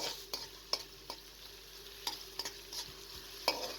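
Onion and garlic sizzle in about four tablespoons of hot cooking oil in a kadhai over a medium flame. A soft, quiet continuous frying hiss is broken by scattered scraping clicks from a spoon stirring the pan.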